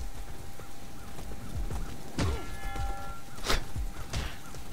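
A horse runs through a medieval battle in the game War of the Roses, its hoofbeats thudding amid dense clattering battle noise, with a whoosh and a sharp hit standing out and faint whinnying tones.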